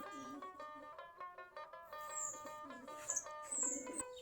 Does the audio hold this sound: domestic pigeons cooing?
yes